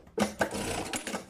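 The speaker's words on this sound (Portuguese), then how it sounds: "E agora costuro sempre em cima desta marcação." A sewing machine stitches a pencil case along a marked line in a few short close bursts of rapid mechanical whirring, with no talking.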